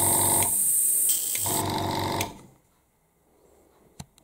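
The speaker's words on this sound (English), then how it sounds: "Now we've cleaned our airbrush out" An airbrush is cleaned with airbrush cleaner in short bursts of loud hissing, sputtering air that start and stop for about two seconds, followed by quiet and a single faint click.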